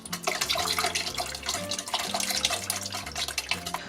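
Water pours steadily from a tap into a pot for mloukhia as the second litre is added, making a continuous splashing gurgle at moderate loudness. Low background music plays underneath.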